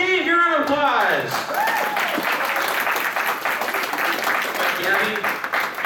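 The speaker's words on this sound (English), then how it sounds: "Give a round of applause." A convention crowd applauds the winner of an anime quiz game at PortConMaine, with loud, sustained clapping and cheering. A speaker's voice rises over the start and other voices carry through the steady applause.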